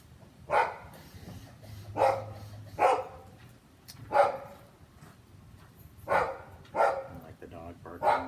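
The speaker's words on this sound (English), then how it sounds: "like the dog barking in the background" A dog barks repeatedly in the background, about seven loud, sharp barks at uneven intervals of roughly a second, somewhat distant, over a quiet room.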